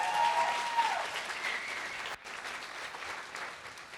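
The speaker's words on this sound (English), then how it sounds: "Can we get a round of applause for the judges?" An audience at the Ubisoft Toronto NEXT awards ceremony claps steadily for the judges, a dense wash of applause that carries on for several seconds without letup.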